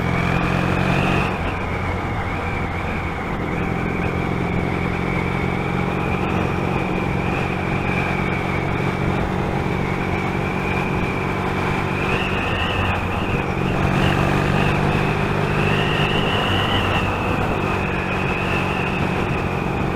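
A Yamaha XS650 motorcycle is ridden at a steady cruise, its engine droning continuously and loud for the whole stretch, with slight changes in pitch and wind rush.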